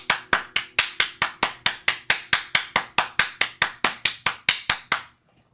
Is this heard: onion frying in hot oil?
no